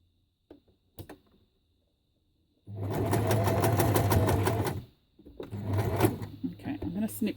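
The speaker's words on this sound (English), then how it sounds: "I'm going to turn it and sew across now." Domestic sewing machine stitching across scrap fabric strips, two sustained loud whirring runs of about two seconds each separated by a short pause, preceded by a few faint clicks of handling.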